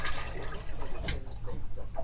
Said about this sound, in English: These are freshwater flush too.